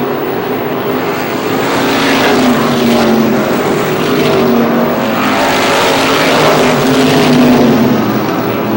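Race cars at Star Speedway in New Hampshire roar around the track in a loud, continuous pack, engine pitch rising and falling as they pass, with no talking.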